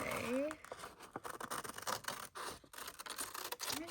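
Scissors snip through a paper holiday bag for a junk journal, producing close, scratchy cutting and rustling in short irregular bursts, with a faint voice at times.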